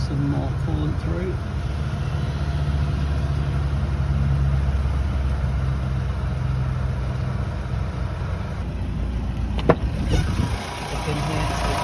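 A Mazda Bongo van engine idles steadily and close, a continuous low rumble with a brief clunk near the end.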